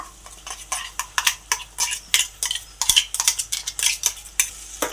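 A metal spoon stirs gongura paste into a meal maker curry in a pan, producing repeated scraping clinks against the cookware in an irregular rhythm, close and clear, with no talking.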